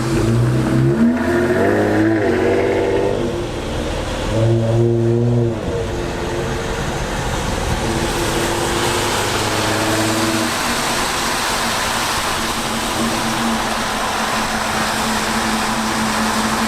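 A car fitted with 5-inch exhaust tips revs up in a couple of rising bursts near the start, then settles into a steady, loud engine drone with no talking.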